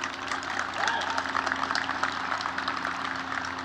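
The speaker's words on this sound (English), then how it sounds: "Another cheer for our vocalist" Audience applause and cheering at a university graduation ceremony, a dense, steady wash of clapping from a large crowd that fills the whole stretch evenly at moderate loudness.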